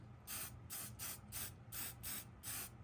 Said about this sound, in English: And then I'm gonna spray it again